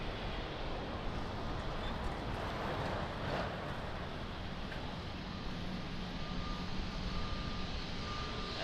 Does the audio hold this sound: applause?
no